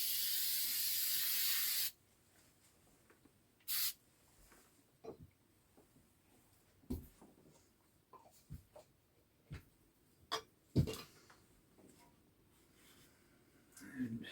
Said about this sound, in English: we'll coat the wire with a little spray adhesive.